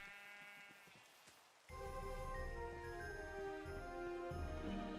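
A sheep bleats loudly and close by, a drawn-out wavering call following a brief softer bleat, with no other sounds around.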